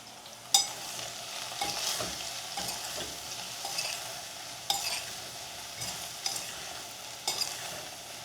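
Brinjals are tossed into a pan of frying fenugreek curry, setting off a soft, even sizzle broken by several sharp clacks and scrapes from a stirring spoon, close by and without talk.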